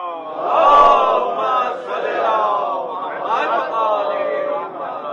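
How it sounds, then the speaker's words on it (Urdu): A crowd at a majlis recites salawat in unison, a dense, loud mass of voices that rises early and carries on steadily to the end. "مجھے امام حسن بلندتر صلوات"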